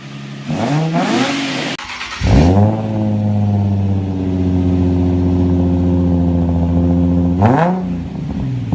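A Nissan 350Z with a muffler-delete exhaust revs up loudly, then holds a smooth, deep, steady drone before a final rev near the end, close and without talk.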